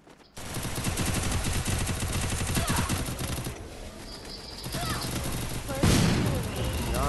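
Gunfire from a headshot exchange in the Free Fire mobile game: dense, continuous automatic shots with a bright burst toward the end, all under a loud game soundtrack.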